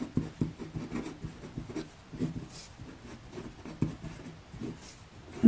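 Numbers are written by hand during a Class 6 maths lesson, heard as close, soft scratching strokes that come in quick irregular bursts with brief pauses. No voices are heard.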